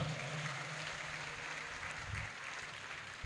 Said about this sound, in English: If you're clapping, you can make it louder.